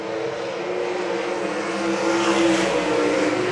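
Sprint cars racing at I-96 Speedway in a Great Lakes Super Sprints event, a steady loud engine roar that swells slightly as the pack passes, continuous and without talk.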